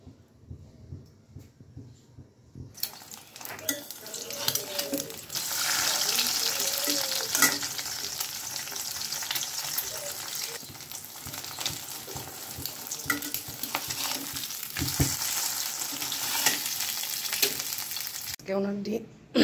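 An egg poaching in a frying pan for breakfast gives a steady, close sizzle and crackle that starts after a short quiet opening, with faint stirring and occasional soft knocks, then cuts off near the end.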